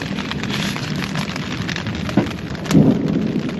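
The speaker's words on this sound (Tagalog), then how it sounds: "Yun, kumukulog kidlat pa." Heavy rain pours steadily in the open during a tropical storm, a dense hiss that never lets up, while low thunder rumbles out twice, a brief knock and then a longer, nearer roll, with no talking.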